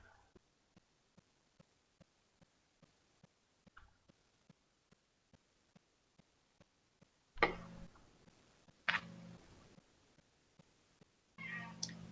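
A cat meows loudly a few times, close by, over a quiet steady ticking like a clock.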